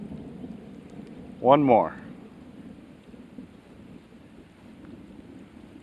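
Rain and low thunder rumble together in a steady, windy wash during a rainy fishing outing, with someone briefly speaking over it.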